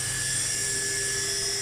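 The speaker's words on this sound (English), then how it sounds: "This shows the hour hand being cut." A CNC machine cuts a clock hour hand out of 1mm thick steel sheet, making a steady, loud, high whine with no pauses or talking.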